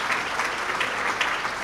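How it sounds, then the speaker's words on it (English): Steady applause from an audience at a summa cum laude ceremony, a continuous wash of many hands clapping at an even level throughout. "Can we give the parents a round of applause,"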